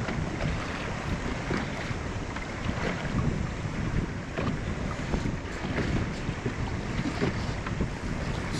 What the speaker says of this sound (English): the wind is making it impossible now